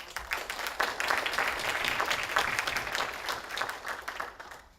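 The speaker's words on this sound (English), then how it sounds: "A round of applause, please." Audience at a literary prize panel for short-listed authors gives a round of applause, a soft, steady patter of many hands clapping in a room, moderately distant, with no talking.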